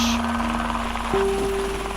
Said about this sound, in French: le vol bruyant de l'hélico